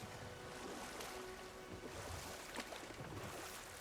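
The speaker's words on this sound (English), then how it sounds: "Waterfalls" A waterfall in God of War Ragnarök gives a steady, faint, broadband rush of falling water that stays even throughout, with no voices.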